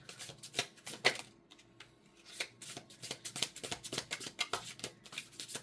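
Tarot cards are riffled and shuffled by hand in a quiet room, a rapid run of crisp papery flutters and snaps with a brief pause before a denser burst of shuffling.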